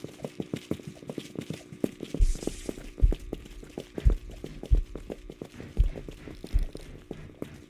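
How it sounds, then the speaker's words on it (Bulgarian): Footsteps in a Roblox video game, a run of sharp, evenly spaced thuds at a walking pace, fairly close and prominent over a busy, humming game background with no talk. "Чувам стъпки."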